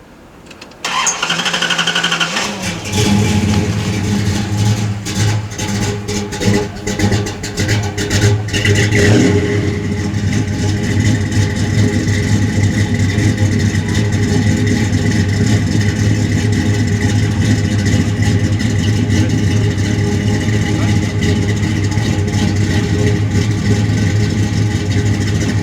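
1971 Dodge Charger V8 with a recently replaced part cranks over, catches and revs roughly, then settles into a loud, steady, close rumbling idle that continues for the rest of the stretch.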